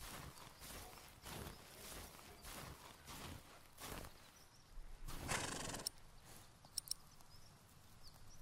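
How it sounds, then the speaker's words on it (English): A pony in the video game The Pillars of the Earth neighs and snorts softly, with several breathy whinnies and a few hoof clops, close and fairly quiet with no talking. "My pony needs to be fed."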